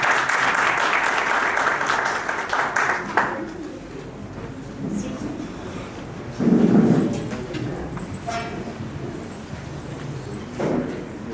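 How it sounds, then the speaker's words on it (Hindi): An audience claps at a book launch event, a dense burst of applause for the first few seconds that then fades away, followed by quieter room noise and a couple of brief sounds, with no speech over it. "अपनी तालियों की गड़गड़ाहट को थमने मत दीजिएगा"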